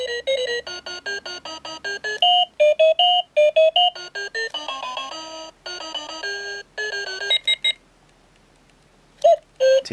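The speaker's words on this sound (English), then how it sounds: "you can select the alarm melody by pressing the MIN button." A digital spy camera clock plays its alarm melody as a quick run of bright electronic beeping notes. The tune is loud and close, breaks off into silence near the end, then sounds two brief notes.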